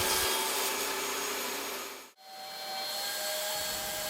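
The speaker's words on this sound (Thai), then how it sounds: "เมื่อเครื่องดูดฝุ่นทำงาน จะเห็นได้ว่าไม่มีขี้เลื่อยฟุ้งกระจายออกมาข้างนอกเลย" A Bosch GAS400A heavy-duty vacuum cleaner roars steadily while sucking up sawdust, then briefly drops out before surging back to a constant whining drone.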